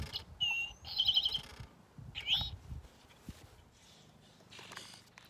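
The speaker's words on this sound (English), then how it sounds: "Towhee might seem like an odd name for a bird until you hear its towhee call." An eastern towhee gives short, bright chirping calls outdoors, a few brief notes near the start and middle over faint rustling background, fairly distant and soft.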